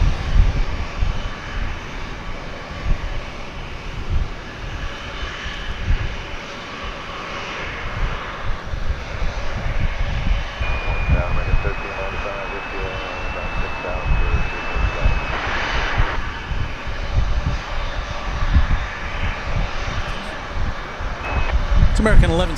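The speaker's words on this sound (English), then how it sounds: "It's American 1174 going to Guadalajara." An American Airlines jet bound for Guadalajara rumbles at DFW Airport as a steady broad engine roar, with a high tone briefly rising above it and reversing beeps from ground vehicles nearby, under occasional talk.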